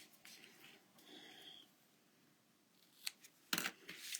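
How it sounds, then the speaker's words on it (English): Scissors trim the paper ends of a decorative bow on a handmade card, a few quiet, close snips and crisp cuts near the end of an otherwise hushed moment. "And then I can just trim the ends."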